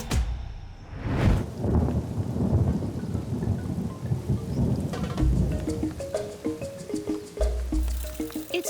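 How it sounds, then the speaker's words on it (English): Heavy wet-season downpour in Malawi, with steady rain pounding surfaces and deep rolling thunder rumbling throughout, loud and close, with no voices. "The downpours stop as suddenly as they start"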